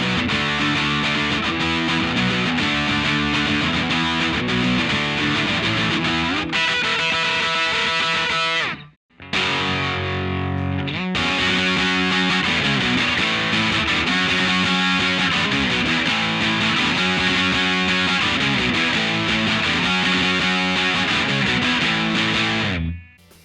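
Electric guitar run through a distortion pedal with its filter pushed high for a heavy-mids hardcore punk tone, played loud and continuous with one brief stop partway through.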